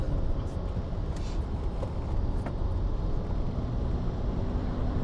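A V12 BMW E38 750iL at full power on a track, a steady dense engine and road roar heard from inside the car, fairly quiet and continuous with no clear gear changes.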